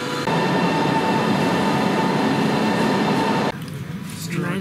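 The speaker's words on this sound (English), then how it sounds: "Made it on the train." Passenger train running from Warsaw to Krakow: a loud, steady rumble and drone with tonal whine inside the carriage, cutting suddenly to a quieter interior near the end.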